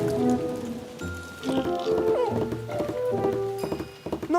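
Rain falling in a cartoon scene, a steady patter under bright musical tones and clip-clop-like knocks, with some clattering hits and no clear talking.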